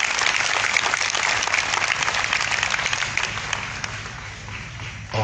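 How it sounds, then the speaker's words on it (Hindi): An audience at a night worship gathering in Balangir, Odisha, applauds the worship team with steady, continuous clapping that gradually thins out, ending in a brief, sharper sound. "मैं चाहता हूं इस खूबसूरत टीम के लिए ताली बजाएं।"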